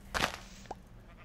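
A baby sheep in a Minecraft-style video game gives one short, bright bleat close up, followed by a fainter second call in a quiet room.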